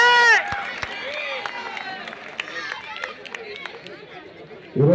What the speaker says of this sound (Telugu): గట్టిగా అందరూ కూడా చప్పట్లతో